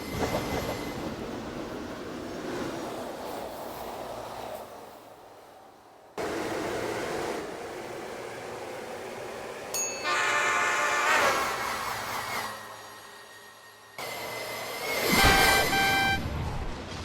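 Train alarm emergency alert tones, several distinct bursts of harsh electronic sounds with sharp tonal beeps and pauses between sections, loud and close with no talking.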